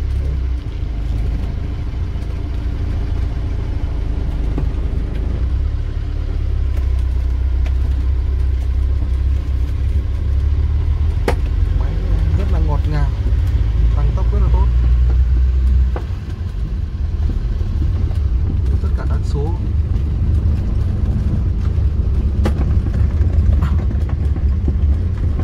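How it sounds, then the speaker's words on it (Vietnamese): The engine of an imported 1996 Kia Pride idles in a steady, low, smooth rumble for the full stretch. Faint clicks and small knocks sound over it, with no talking. "máy nổ rất êm"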